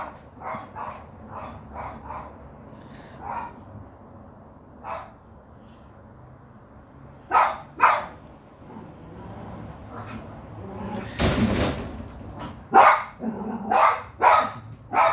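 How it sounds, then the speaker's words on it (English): Dogs barking indoors at a noise outside, with a run of sharp repeated barks, some growling and a loud burst of rough, overlapping barking toward the end, close and fairly loud. "My dog's going crazy."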